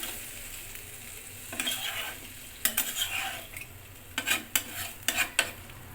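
Chicken curry simmering in a thin sour-yogurt gravy gets stirred in a pan, producing bursts of scraping and sloshing over a quiet background at a close, moderate level.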